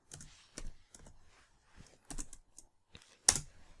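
Computer keyboard typing in sparse, separate keystrokes and short clusters, close and crisp against silence, ending with one sharper, louder key strike.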